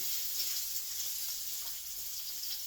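Bacon sizzles and crackles steadily in a hot skillet, a soft continuous frying hiss with faint pops and no voices.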